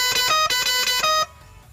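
An air pressure horn fitted to an auto rickshaw blares a loud, bright, multi-toned melodic pattern in several quick bursts close up, then stops abruptly, leaving a quiet background.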